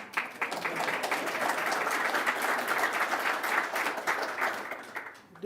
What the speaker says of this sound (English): Don't want to get in the way of clapping